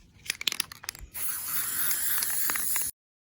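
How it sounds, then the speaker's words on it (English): A steady hiss of an aerosol can of cheap gold spray paint, running continuously for about two seconds after a few short clicks and rattles. "I'm going to try this terrible cheap gold spray paint"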